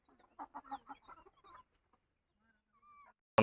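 A few free-range desi chickens cluck in short bursts nearby in a shed, then a brief drawn-out call, ending with a sudden loud bump.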